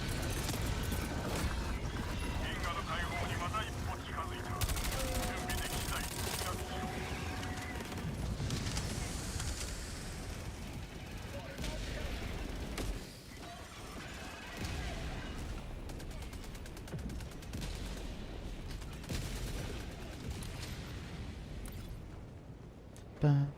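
Walking artillery barrage in Helldivers, with dense, continuous rumbling blasts and crackling impacts rolling close by for over twenty seconds, under steady talk from players.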